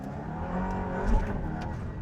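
An Aston Martin hypercar engine holds a steady, dense roar for about two seconds. It swells briefly near the middle and stays loud and close, with no talking.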